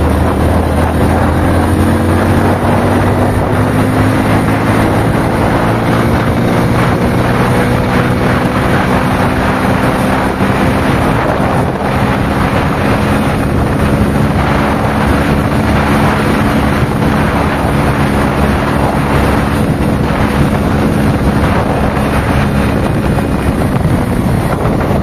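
A Hero HF Deluxe motorcycle running fast in fourth gear, near 100 km/h. The engine drones steadily and loudly, and heavy wind roar buffets the microphone throughout.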